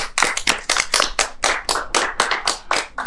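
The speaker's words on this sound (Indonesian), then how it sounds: "Tepuk tangan dong." A small group claps together up close in a studio talk-show welcome, a quick run of sharp, roughly even hand claps lasting a few seconds.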